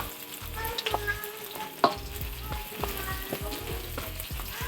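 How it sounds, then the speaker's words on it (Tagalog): Carrots and potatoes frying in hot oil, a steady sizzle with repeated stirring scrapes and clinks of a utensil against the pan, close and alone without talk. "Prituhin muna natin tong carrots at patatas."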